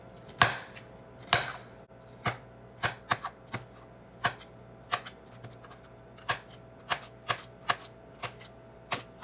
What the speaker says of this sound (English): Chop up the cucumbers very fine.